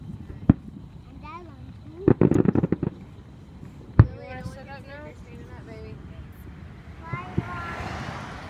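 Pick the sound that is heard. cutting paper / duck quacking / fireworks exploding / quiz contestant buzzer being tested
fireworks exploding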